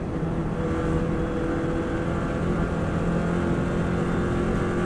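A 2018 Subaru Impreza runs fast in sixth gear, sliding wide on a track, with a loud, steady engine drone and road roar that hold constant without a break.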